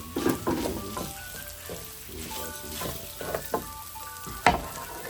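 Onions frying in oil for Trini-style cod fish, a crackling sizzle with spoon scrapes and knocks against the pan, one sharp clack near the end, no talk.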